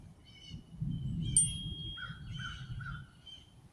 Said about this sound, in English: And crows. And blue jays.